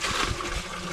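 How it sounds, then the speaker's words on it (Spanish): Water poured out into a farm storage tank fed by a natural spring, a steady close broadband gush lasting about a second with no talk over it. "Échale, echa el agua."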